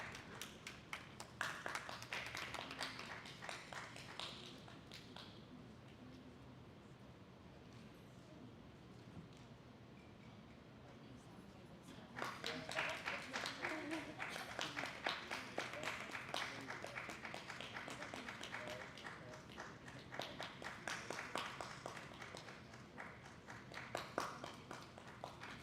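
Audience applause fills a conference hall at an international conference on inequality, development and sustainability, with dense clapping that runs steadily, eases a little, then swells louder again partway through and carries on to the end.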